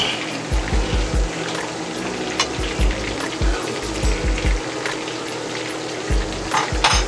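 Vegetables with lime cook down in a pan for a Thai-style whole red snapper, giving a steady frying sizzle broken by soft, irregular knocks and scrapes of a utensil against the pan.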